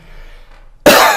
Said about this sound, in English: Forgive the fact I'm going to be coughing through this whole thing.